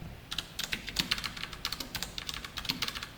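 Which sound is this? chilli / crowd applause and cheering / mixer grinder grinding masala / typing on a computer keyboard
typing on a computer keyboard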